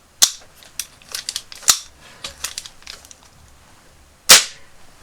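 A Thunder Punch He-Man Masters of the Universe toy figure fires a cap with one sharp, loud bang, after a run of small clicks and taps as it is handled.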